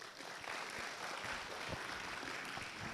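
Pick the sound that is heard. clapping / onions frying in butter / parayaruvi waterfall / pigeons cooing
clapping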